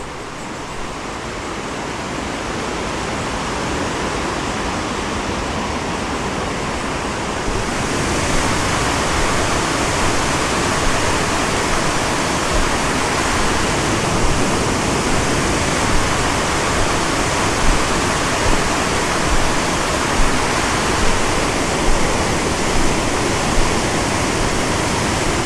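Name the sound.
water rushing over the Ohio Edison Dam, Cuyahoga River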